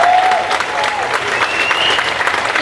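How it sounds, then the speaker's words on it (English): An audience at a high school winter concert applauds the wind ensemble with full, sustained clapping that fills the hall, faint tonal notes drifting through it. "Can we have a round of applause?"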